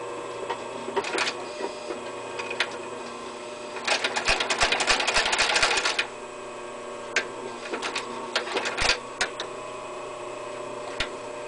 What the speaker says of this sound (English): Now we're going to sew with 4, just to give you an understanding of the capability of the machine.